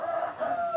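A rooster crows in a short, clear call, fairly close, with a brief rise and a sustained tone and no voices over it.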